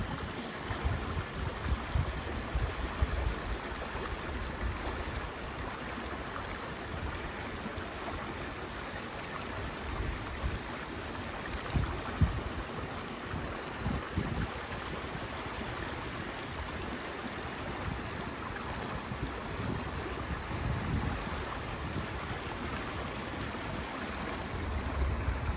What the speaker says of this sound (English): Beautiful rushing waters.